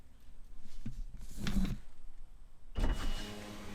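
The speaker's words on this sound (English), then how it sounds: "And now we'll see if it rolls the back window down." A 2007 Toyota 4Runner's power rear window motor hums as the glass rolls down, with clunks and a thud as it stops, heard close inside the vehicle.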